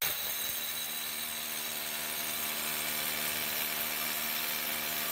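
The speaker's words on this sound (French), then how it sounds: "c'est une mèche de 10 avec une belle perceuse. Voilà, on y va, on va aller percer là." Power drill with a 10 mm bit boring into a wall during toilet renovation work, a loud continuous grinding whir that holds steady for the whole stretch.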